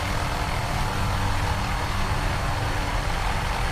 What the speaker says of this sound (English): Of course not, because we get the roar of the helicopter.